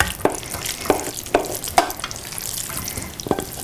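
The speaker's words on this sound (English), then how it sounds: "Get it all out of the pan." Creamy risotto is scraped from a pan onto a plate: a series of sharp spoon or spatula scrapes at a steady rhythm, close and fairly loud, over faint kitchen background with no talking.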